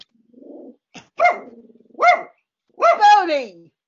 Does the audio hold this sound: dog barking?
yes